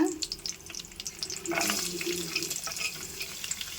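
Grated coconut and cashews frying in ghee in a pan alongside raisins, a soft close sizzle that swells partway through, with faint stirring scrapes and watery bubbling.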